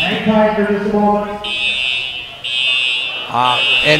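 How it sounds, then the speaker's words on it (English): A fire alarm sounds in a gym during a wrestling sectionals event, with loud repeating electronic tones that switch pitch in pulses while people talk close by. "Most likely somebody pulled an alarm."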